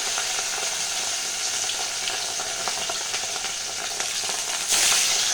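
Pieces of katla fish frying in hot oil in a pan, a loud continuous crackling sizzle with scattered spitting pops, growing brighter and more intense near the end.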